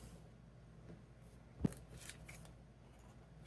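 Scissors making a single crisp snip near the middle, followed by faint paper rustling, in an otherwise quiet room with no one speaking.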